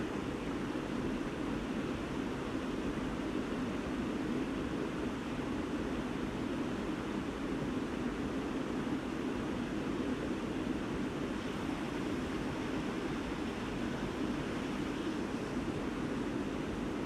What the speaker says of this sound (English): The music of the river.